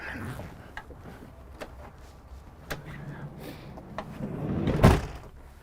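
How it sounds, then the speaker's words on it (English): Faint shuffling and a few light knocks lead up to the door of a 2022 Winnebago Revel 44E camper van pushed shut with a solid thud near the end. "Let me shut this door."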